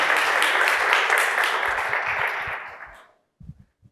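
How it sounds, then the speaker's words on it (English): Audience applause at the Mars Habitat Challenge 2022 event following a team presentation: a burst of many hands clapping that gradually thins and fades out after about three seconds, leaving a few faint knocks and shuffles. "This is your applause."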